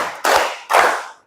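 A class of pupils clapping hands together in unison, two sharp collective claps close by.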